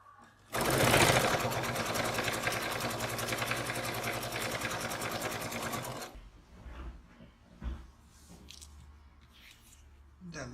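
A sewing machine stitches a fabric pocket in one fast, continuous, whirring run of about five seconds, close and loud, then stops, leaving quiet handling noises and soft thumps.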